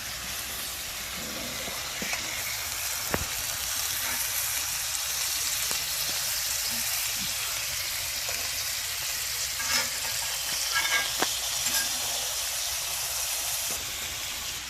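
Chicken sears in a pan with sun-dried tomatoes, a steady broadband sizzle holding for the whole stretch with a few sharp pops and clicks, close and fairly loud, no talking.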